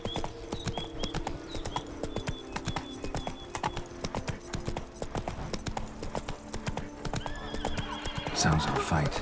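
Roach the horse from The Witcher 3 clip-clops steadily at close range, her hoofbeats running throughout under a busy game soundscape, with a whinny rising near the end.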